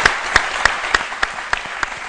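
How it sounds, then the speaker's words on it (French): Studio audience applause on a midday French-language TV talk show, a steady wash of many hands with sharper individual claps standing out at regular intervals, fairly close and continuous throughout. "on applaudit très fort"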